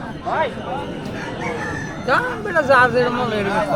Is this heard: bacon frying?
no